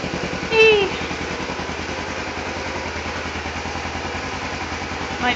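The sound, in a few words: motorcycle engine idling, 250 bike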